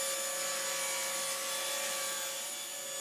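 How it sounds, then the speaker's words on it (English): A table saw rips a 1 3/4 inch strip from a piece of cherry wood, producing a steady, sustained whine with a tonal hum, moderately loud and unbroken, with no talking. "I'm starting here by ripping a 1 3/4 inch strip out of this piece of cherry"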